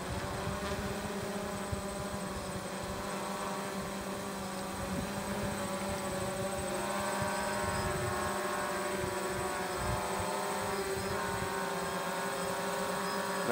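A DJI Phantom drone hovers and then slowly descends, its steady propeller whine and hum droning loudly and continuously with no pauses.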